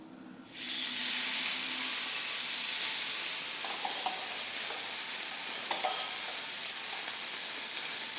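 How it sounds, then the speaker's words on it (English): Beef tenderloin dropped into smoking-hot oil in a pan for lomo saltado, bursting into a loud, steady hiss of searing that starts suddenly and holds close up, with faint clinks of utensils underneath. "we're adding our tenderloin like this, and we're gonna spread it all over"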